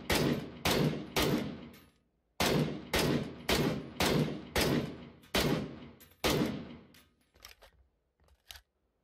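Video game gunfire in a PUBG-style battle royale match: loud, close shots in quick bursts with short pauses between, each ringing out with a decaying tail, tapering to fainter shots at the end.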